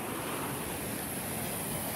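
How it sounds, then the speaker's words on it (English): Ocean surf rolls onto Tigertail Beach as a continuous, fairly loud wash of breaking waves, with some wind buffeting the microphone and no voices. "Can't hear me with the waves."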